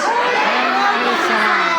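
A large crowd shouts together in one loud, energetic burst, voices overlapping in a brief unison cry.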